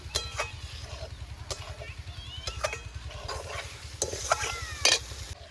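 Chicken pieces are stir-fried in a pan until the oil separates, with a quick rhythmic scraping and stirring pulse throughout, soft sizzling, and a few sharp clinks of the spoon against the pan.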